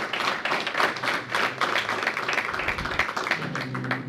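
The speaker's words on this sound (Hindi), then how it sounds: "भरपूर तालियां बजाई जाएं स्टेज पर मौजूद हमारे अहबाब के लिए।" Dense, steady applause from a crowd at a poetry gathering in Willesden Green, London, broad and continuous clapping that fills the whole stretch without pause.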